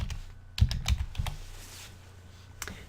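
Computer keyboard keys tapped in a quick cluster of clicks as a document name is entered, then a pause and one last keystroke, close and fairly quiet.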